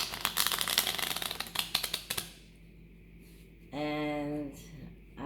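Tarot cards being shuffled by hand, a quick run of crisp riffling clicks for about two seconds, then quiet and a brief tonal hum.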